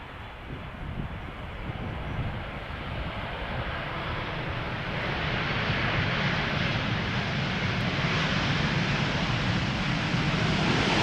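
Saudia Boeing 787-10 Dreamliner in special Neom livery arriving at Schiphol, its jet roar steadily building and brightening as it draws closer, a broad loud rushing sound with no voices.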